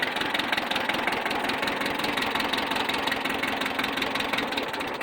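A four-wheeler engine idling low, a steady close rumble with a fast, even chug that holds at one level throughout.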